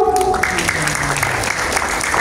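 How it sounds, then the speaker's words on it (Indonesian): Audience at a democracy-awareness gathering giving a round of applause, dense continuous clapping close and fairly loud, with a few voices mixed in underneath. "Boleh berikan tepuk tangannya dong."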